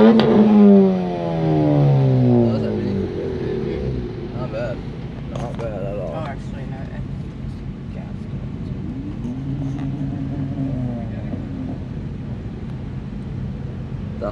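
A Honda car engine revs loudly at a Kanc cruise car meet, its pitch sweeping up through a sharp acceleration before falling away, followed by lower engine rumble and a second rising rev as people talk nearby.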